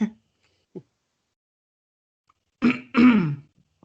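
A short throat clearing and a brief rasp, then two louder harsh cough-like bursts close up, separated by silence.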